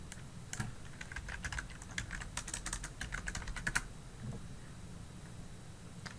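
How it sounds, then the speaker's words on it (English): Typing on a computer keyboard in quick irregular bursts of key clicks, close and faint over a low room hum, then settling into near quiet. "we can type in windmill"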